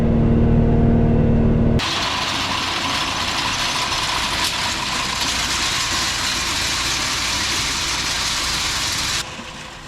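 A tractor pulling a hay baler through a field of clover hay rumbles in a steady, close engine drone that runs unbroken for several seconds before dropping off near the end.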